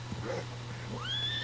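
Horse whinnying in the Western video game Red Dead Redemption 2, a rising, drawn-out neigh that swells near the end over a low steady hum, fairly close, with no talking.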